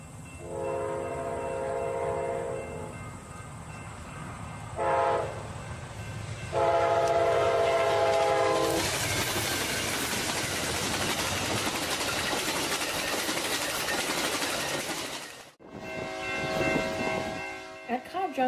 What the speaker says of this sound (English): And Amtrak 6 crossing South Street.